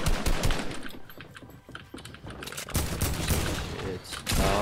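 Shotgun and automatic gunfire in a multiplayer shooter game, dense bursts of shots firing almost continuously, loud and close throughout.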